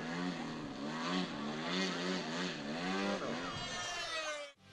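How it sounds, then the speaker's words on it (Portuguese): Radio-controlled scale model airplane flying at a model aviation meet, a steady buzzing propeller engine whose pitch sweeps up and down as it passes overhead, loud and continuous before cutting off abruptly near the end. "Produzidos em escala, no céu, os aeromodelos se parecem ainda mais com os aviões comerciais."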